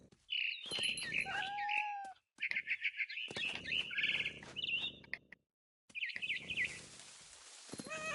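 A frightened barn swallow in What Remains of Edith Finch gives bright, rapid chirps and tweets in several bursts, close and fairly loud, with brief pauses between flurries and a softer rustle toward the end.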